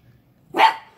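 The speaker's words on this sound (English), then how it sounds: "She's a prepper poodle puppy." A single sharp bark from a poodle puppy, close and loud, rising out of near silence near the end.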